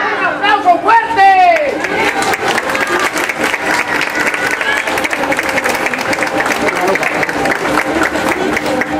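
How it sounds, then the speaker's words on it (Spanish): A street crowd at a religious procession for the Señor de la Salud breaks into loud sustained applause mixed with cheering and chatter, continuing steadily throughout. "¡Un aplauso fuerte!"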